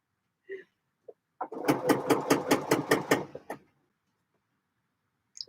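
A sewing machine stay stitches a skirt panel in a quick, even burst of rapid mechanical stitching lasting about two seconds, with a few soft fabric-handling knocks before and after, close by.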